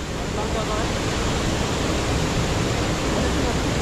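Devle waterfall at Devarukh pours in a dense, unbroken roar of rushing water, loud and steady throughout the few seconds.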